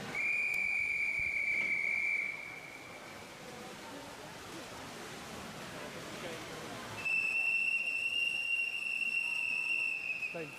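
Two sustained shrill whistle blasts at a swimming race, each lasting a couple of seconds with a quiet gap between them, ringing over the hum of the pool hall and a commentator's voice.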